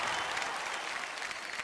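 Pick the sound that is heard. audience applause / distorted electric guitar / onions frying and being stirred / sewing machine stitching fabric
audience applause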